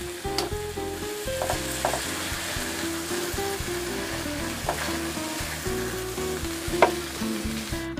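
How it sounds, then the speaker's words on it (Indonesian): Pieces of empal, Javanese beef, fry in hot oil, giving a close, continuous sizzle with crackling pops and the occasional clink of stirring. "Empalnya saya goreng dulu ya teman semua. Minyaknya sudah panas."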